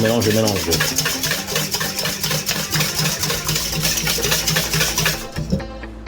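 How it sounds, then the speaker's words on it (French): Sugar is stirred into chocolate cake batter for a mi-cuit au chocolat, a spoon or whisk scraping the bowl in a quick, steady rhythm, close and fairly loud. "Je vais mettre le sucre. Je mélange."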